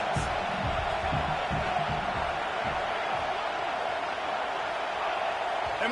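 Packed college football stadium crowd roaring on a fourth down, a dense, continuous wall of cheering and noise held at a steady level throughout.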